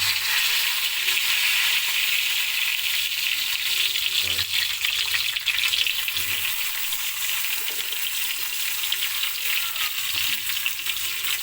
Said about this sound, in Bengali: তারপর তেল দিব, 3টে সাদা এলাচ, দারচিনি